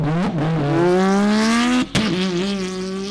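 A drift-built McLaren engine revs loud and close, its pitch climbing steadily before a brief cut near two seconds, then holding a high rev under load with a harsh, raspy tone.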